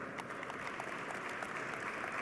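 Audience applause at an announcement event at JFK Airport, a steady dense patter of many hands clapping throughout at moderate volume.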